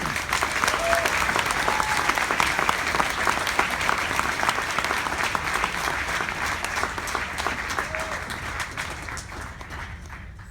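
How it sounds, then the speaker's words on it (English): Sustained audience applause for Heidi at a SHPE RLDC 2016 award presentation, a dense steady wash of many hands clapping for about ten seconds, tapering slightly near the end, with brief faint voices underneath. "one more round of applause for"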